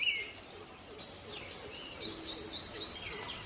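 An Indian pitta (navrang), a ground-dwelling bird, gives a series of short, faint whistled calls in a loose rhythm over a constant high insect or cricket drone outdoors, no talking.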